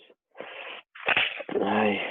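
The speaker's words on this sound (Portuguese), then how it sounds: "logo na hora que eu começo a gravar, eu espirro" A few short breathy bursts end in a sharp, explosive sneeze, close and loud, followed by a brief voiced exhale.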